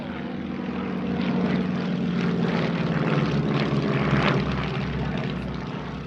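An Avro Anson I propeller aircraft flies at a Shuttleworth airshow, its engines giving a steady, loud drone that holds throughout with a slight swell.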